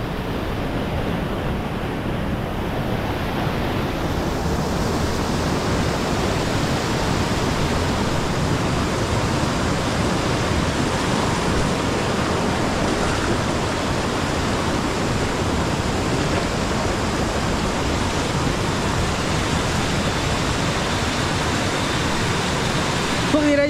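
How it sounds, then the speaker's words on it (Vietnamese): A mountain stream flows loudly and steadily in a broadband roar close to the microphone, with no pause for its whole length. "suối nó chảy ghê quá"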